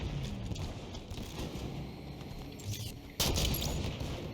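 Gunfire in Halo 5 multiplayer: bursts of shots crackle faintly through a busy, low-level game mix, and a louder, sharper round of fire hits near the end.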